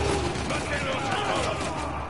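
Gunfire in a shooter video game, a dense rattle of rapid shots with mechanical clatter filling the whole short stretch, loud and close.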